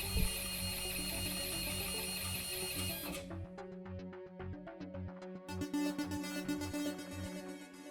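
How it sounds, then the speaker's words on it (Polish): A small Zebra label printer whirs with a dense mechanical buzz, then shifts to rapid rhythmic clicking and feeding sounds at full speed, fairly close and without speech. "I tutaj już od razu widzimy, że drukarka drukuje z całą swoją prędkością."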